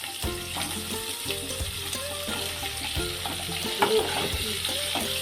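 Onions and potatoes sauté with salt in a pan for a home-style egg curry, a soft crackling sizzle close up with stirring clatter and a few small clinks throughout.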